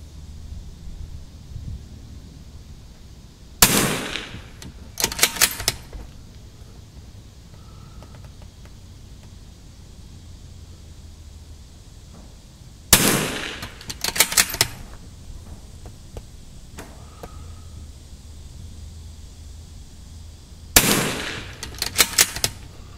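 Gunfire at an outdoor shooting range aimed at a flyswatter target: three loud bursts of several rapid shots each, spaced well apart, with quiet ambient stretches between and no talking.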